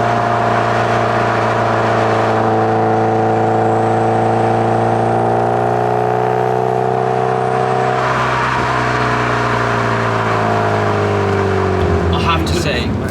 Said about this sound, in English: I went for a higher gear there just to see how it went from, you know, NA to turbo, the lag and everything in between